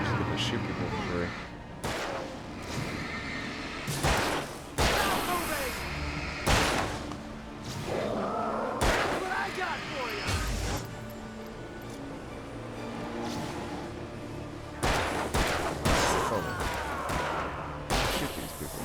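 Gunfire in Alan Wake bangs out as repeated sharp, loud shots in irregular bursts over a rumbling, busy background. It keeps going across the whole stretch.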